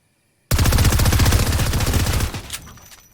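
A rapid-fire SMG in Fortnite lets loose one loud, close, unbroken burst of quick shots lasting about two seconds, then cuts off into a brief fading tail.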